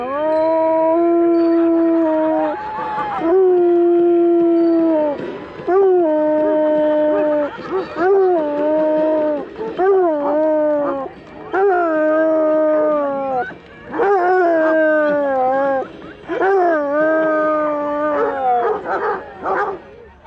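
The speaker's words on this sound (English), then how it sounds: "That's a great howl, yeah!" Bosco, a basset hound, howls close and loud in long wavering bays, repeated again and again with short breaths between, the later howls breaking into quicker yelping swoops.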